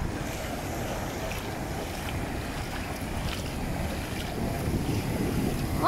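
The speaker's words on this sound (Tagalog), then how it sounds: "Pero dito, taas-taas ng alon." High ocean waves in a strong current around a boat at sea, a continuous rushing wash of water and wind buffeting the microphone, building louder toward the end, with no voices.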